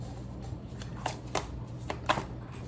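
A large blended deck of tarot cards is shuffled close by, soft papery riffles and light taps in an uneven rhythm over a faint steady hum.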